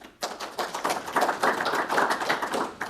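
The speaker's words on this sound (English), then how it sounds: "let's give her a round of applause." An audience claps at a talk on livestock producers and feedlots, with distinct hand claps building into a moderate, uneven round of applause that stays near and fairly light.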